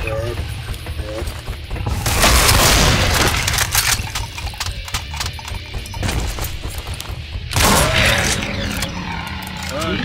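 Shotgun blasts aimed at a Pinky demon in Brutal Doom, heavy booming bursts around two and eight seconds amid loud busy game action, with a voice talking over parts of it.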